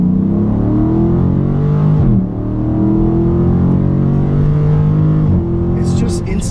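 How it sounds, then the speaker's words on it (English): A 2017 Dodge Charger 392 Daytona with a 6.4L V8 at full throttle from 20 mph, its deep engine roar climbing in pitch with quick kickdown shifts near 2 and 5 seconds, loud and close from inside the cabin. "So I'm at 20 miles an hour and I'm gonna floor it."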